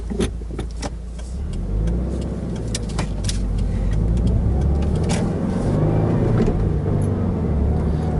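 A car engine hums low and steady from inside the cabin while driving, with road rumble beneath and scattered small clicks and knocks.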